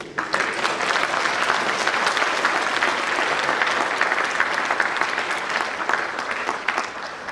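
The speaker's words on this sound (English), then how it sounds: "let's give a big round of applause to the panelists" Loud, sustained applause from the audience at a youth debate in Fiji, dense steady clapping that carries on evenly for several seconds for the panelists.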